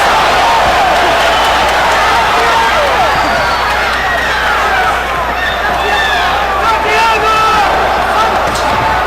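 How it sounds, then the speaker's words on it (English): A boxing arena crowd at a world lightweight title fight between Floyd Mayweather and Victoriano Sosa, a loud, continuous roar of cheering and hubbub with scattered shouts and whistles rising from the mass. "There's a lot of cheering and excitement in the arena."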